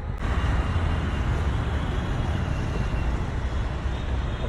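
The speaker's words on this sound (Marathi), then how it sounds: "इथे सुद्धा ट्रॅफिक जाम आहे" Heard from a motorcycle stuck in a city traffic jam, a constant, loud roar of road and engine noise, mixed with wind rush, runs unbroken throughout. No one talks over it.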